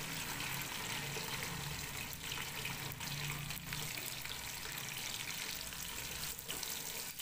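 Onions go into spices frying in hot oil while vegetable rice is being cooked, giving a steady, close sizzling hiss that runs unbroken throughout with no talking.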